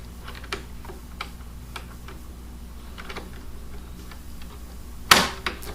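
Presser foot for zippers and piping being fitted onto a Lion Power 312 household sewing machine: a string of light plastic-and-metal ticks and clicks, then a sharper snap as it locks on, close and quiet.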